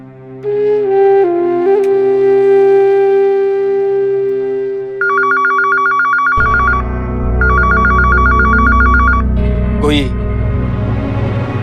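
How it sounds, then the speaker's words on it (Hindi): A telephone rings with repeated trilling bursts, two rings in a row, following a held musical tone and over a low rumbling backdrop. "कोई फोन क्यों नहीं उठा रहा है?"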